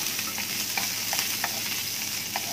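Chopped red onion sizzling in a hot frying pan, a steady crackling hiss with small pops and occasional stirring scrapes, close and continuous.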